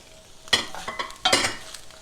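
A utensil scrapes and clinks through chopped eggs and leftovers in a frying pan over a soft sizzle, with two sharper strokes standing out, close and without talk.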